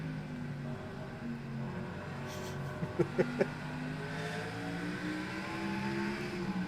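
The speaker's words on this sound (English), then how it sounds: "I think they still have some remnants of the Ford FR9 sounds in here." A NASCAR race car engine with a Ford FR9 character, droning steadily at a distance with a few sharp clicks or pops midway, no talking.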